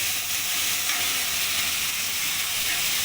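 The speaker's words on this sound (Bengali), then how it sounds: "সেটাকে আমি দিয়ে দেবো তেলের মধ্যে মশলাটা ভালো করে নাড়িয়ে নেবো" Spice paste of onion, tomato and green chili frying in hot oil while being stirred for an amudi fish curry, giving a dense, continuous close sizzle and hiss with no breaks.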